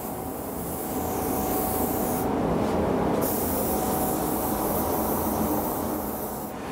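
Cerakote coating sprayed onto a gun in a refinishing shop, a steady loud hiss of the spray gun running continuously throughout, with a brief higher burst in the middle.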